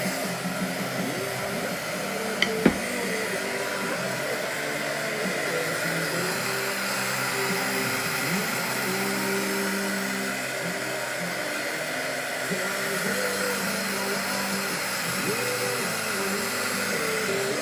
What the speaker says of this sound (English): I'm just gonna hit this with the heat gun real quick.